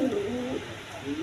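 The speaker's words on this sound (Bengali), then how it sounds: "দেখেন, একদম কোয়ালিটি সম্পন্ন কবুতর" Pigeons coo at a pigeon farm selling paired birds with eggs and chicks, soft low throaty calls repeating close by in a short burst, with no talk over them.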